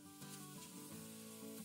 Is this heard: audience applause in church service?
no